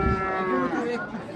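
A cow moos once, long and drawn out, at a busy livestock bazaar in Uzbekistan, with people talking close by and crowd noise in the background.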